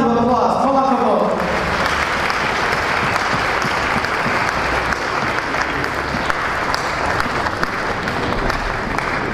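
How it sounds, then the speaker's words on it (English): Audience applause at a Chabad of Rechavia anniversary celebration, steady loud clapping from a large crowd that runs throughout after a brief opening voice. "Big round of applause."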